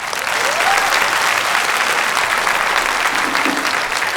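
A comedy show audience applauds the legendary Shahbuddin Rathod, dense, loud clapping sustained evenly throughout.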